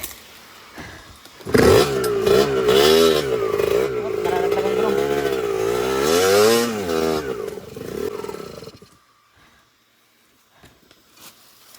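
An enduro motorcycle on a steep mountain trail at Mount Makiling revs hard and close, its engine rising and falling through several strong throttle bursts for about seven seconds before cutting out to near silence.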